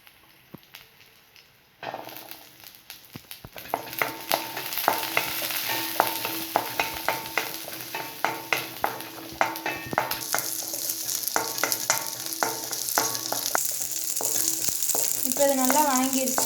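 Garlic and onion sauté in hot oil in a pan, starting quiet then jumping into a steady crackling sizzle with frequent sharp stirring taps, growing louder and denser toward the end.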